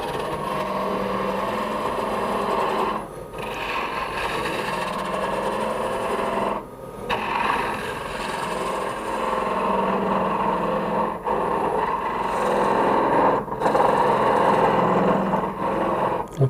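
A wood lathe spins a natural edge end grain bowl as a tool hollows it, a steady close whirring hum with scraping cutting noise and a few brief pauses in the cut.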